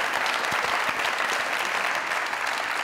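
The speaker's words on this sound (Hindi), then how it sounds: "जोरदार तालियां" Loud, dense applause from a studio audience at a Pakistani comedy talk show, continuous crowd clapping filling the whole stretch without any talk.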